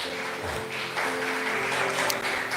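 A church congregation applauds during a worship service, a steady wash of clapping from many hands that holds at an even level throughout with no voice over it.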